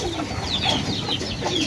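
Racing pigeon breeders in a loft, a parent pair with young, giving soft repeated cooing calls close by over a steady low ambient hum.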